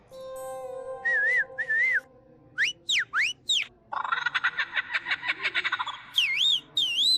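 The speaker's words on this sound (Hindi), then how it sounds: "अब सीटी बजा रही" A person whistles a melodic tune in a Hindi household comedy scene, with a long steady note, then short bright rising and falling whistles in quick bursts and a rapid trill, loud and close, with no talk.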